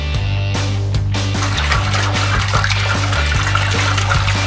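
About 15-16 litres of water pours steadily into a large metal beer-brewing pot, a continuous rushing splash with a low droning hum underneath.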